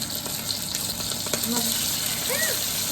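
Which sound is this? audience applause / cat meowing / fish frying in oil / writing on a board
fish frying in oil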